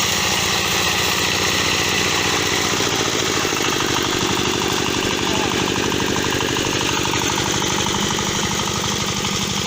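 A belt-driven rotary mower mounted on a walk-behind tractor runs continuously, its engine a loud, steady, close drone with rattling blades filling the whole stretch without pause.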